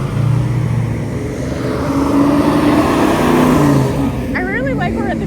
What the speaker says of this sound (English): we're at the beginning and everyone's revving